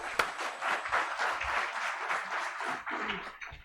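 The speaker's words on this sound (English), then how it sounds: "Let's invite her with a big clap." A crowd claps steadily and loudly for several seconds, a dense, continuous patter of applause that begins to thin out at the end.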